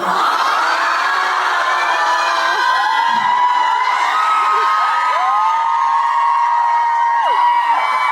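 A concert crowd at a Korean show sustains loud cheering with high-pitched screams and whoops, a dense continuous roar throughout.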